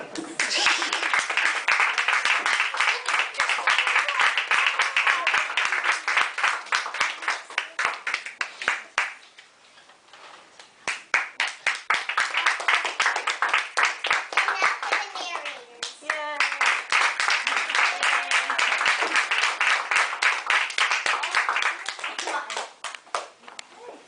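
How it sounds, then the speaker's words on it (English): An audience of children and parents claps loudly and steadily for the actors at the close of a school Reader's Theater performance, with two long rounds of applause separated by a brief lull and occasional kids' voices. "Give an applause to our actors."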